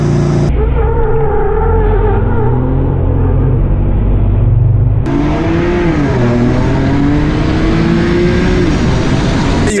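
A BMW M4 on welded wheels accelerates hard in second gear, its engine revving loudly with a rising pitch sweep, then a gear change and another strong pull, close and continuous.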